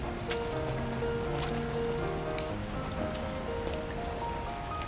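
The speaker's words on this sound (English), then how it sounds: "the chance to get drenched in rain is rare" Steady rain in the game Love & Deepspace, pattering on a surface, with soft sustained tones and occasional droplet splashes throughout.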